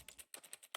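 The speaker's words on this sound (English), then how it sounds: "Clicking buttons." Buttons clicked in an office-job video game: a quick run of about six soft, keyboard-like clicks, faint and close, with no talking.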